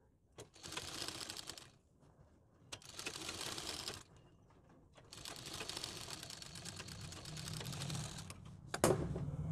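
A sewing machine stitches along both edges of a fabric strip for a dori sleeve, running in three quick mechanical bursts separated by short pauses, close and fairly quiet.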